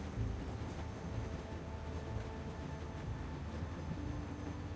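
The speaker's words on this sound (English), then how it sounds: "Stop the train." A moving train in The Walking Dead video game gives a continuous low rumble and rattling clatter, steady and fairly loud throughout with no voices.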